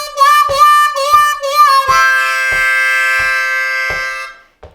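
A C harmonica plays a lick: several short bent notes, then a long sustained chord held to the end, loud and close with no talking.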